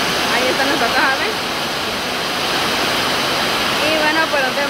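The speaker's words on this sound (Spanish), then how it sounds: "se vino el agua súper fuerte" Very heavy rain pouring down in a dense, continuous hiss at an outdoor cooking spot, with brief faint voices beneath the roar.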